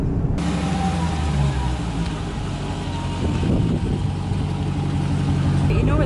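A Ford GT sports car engine runs steadily with a low, rumbling drone, heard from inside or near the car over a constant background roar.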